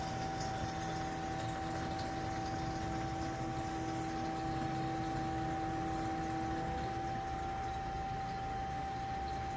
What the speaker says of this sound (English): You heard that different tone from the fuel pump.